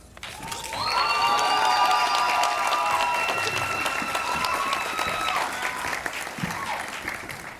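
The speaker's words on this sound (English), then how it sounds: "I think we just won the cheering contest" Graduation crowd at a university commencement cheers and applauds law graduates, a dense wash of clapping and shouting that swells in after a second and stays loud and steady, with some whistles and voices on top.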